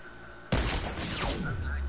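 Sniper rifle fire in a PS4 video game: one sharp, loud shot cracks in after a half-second lull, then trails into a rumbling echo beneath game ambience.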